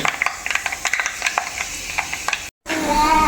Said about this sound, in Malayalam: ആ ഉലുവയും കൂടെ ഒന്ന് പൊട്ടി വരട്ടെ.